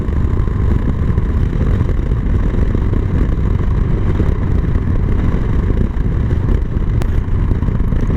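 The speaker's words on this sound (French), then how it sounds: "vous voyez, la moto repart" A motorcycle engine runs steadily after being restarted, a continuous loud low rumble with no clear revving and no talk over it.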